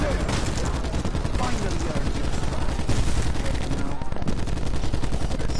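Dense, continuous rapid fire from a laser gun in a video game zombies mode: loud, unbroken, chattering bursts that fill the whole stretch, with voices talking underneath.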